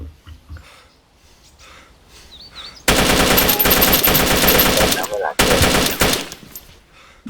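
Rapid automatic gunfire bursts from a shooting video game, loud and close, in two long volleys after a few seconds of quieter game sounds and breathing.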